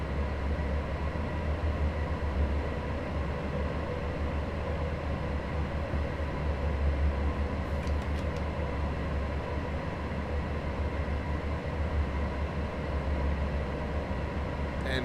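Scotrail Express train running in Train Sim World 3, a steady low rumble of engine and wheels with constant droning tones, even and continuous throughout, plus a brief faint rattle partway through.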